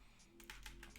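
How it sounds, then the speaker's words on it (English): Fingers type on a computer keyboard during programming, a quick cluster of soft close key clicks over a quiet low hum. "Let's type that one as well."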